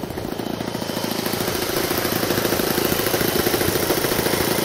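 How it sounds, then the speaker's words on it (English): A 91-size engine on an RC Hawker Hurricane warbird model airplane runs steadily and loudly, a fast buzzing drone with a pulsing vibration that holds constant throughout, with no talk. "What size engine's that guy, Ray?"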